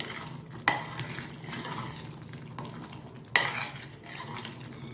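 Cashews and raisins stirred into sweet pongal (sakkarai pongal) in a pot, with two sharp spoon knocks against the vessel over a soft, steady background hiss and faint clinks.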